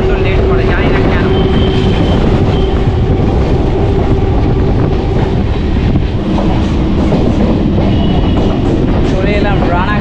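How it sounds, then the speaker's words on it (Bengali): Shantipur local commuter train running on rails toward Sealdah, a steady loud rumble with rhythmic wheel clatter throughout, with a faint tonal hum and some voices in the carriage. "আর এই শান্তিপুর যে লোকাল রয়েছে এখন কিন্তু সোজা চলে যাবে শিয়ালদা"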